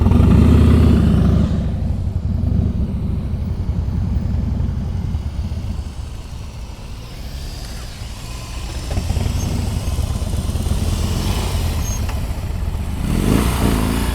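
A motorcycle ridden at slow speed in a practice session in Florida, its engine running steadily and close by, with a louder rev at the start and end and a quieter idle-like stretch in the middle.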